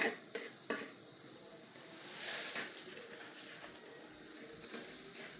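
Puffed rice is stirred quickly into hot sugar syrup in a pan, a soft dry rustling and scraping with a few sharp clinks of the spoon against the pan, fairly quiet and close with no talking.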